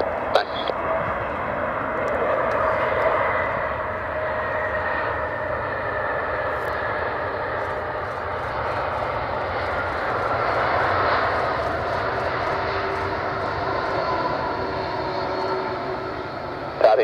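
A Boeing 787 Dreamliner lands at Edinburgh and rolls out with a long aerodynamic braking run, a steady loud roar of engine and airflow that holds for many seconds with gentle swells and fades.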